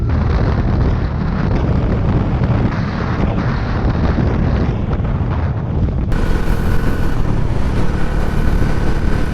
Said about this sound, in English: I'm riding at 80-90 kilometers in Bangalore